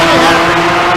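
A Nissan GTR race car at a drag strip roars loudly and steadily through a one-second burst of engine and tyre noise, close and dense, with no pause.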